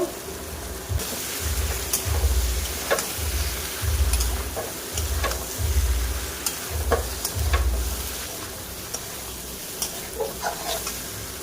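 Steady sizzling of vegetables frying in oil, with a rhythmic scraping stir repeating about once a second, close and fairly loud, no voices.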